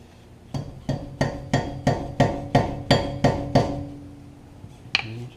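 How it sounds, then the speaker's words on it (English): Hammer taps around the edges of a dust cap on a 3rd-generation Toyota 4Runner during a CV axle replacement, about nine sharp evenly spaced metallic strikes, close and loud, followed by a brief clank. "Just hit it around the edges."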